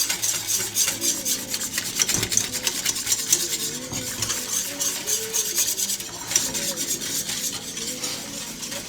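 A whisk scrapes steadily around a pot of flour and butter roux, a continuous close rasping stir with soft metallic clinks and no speech.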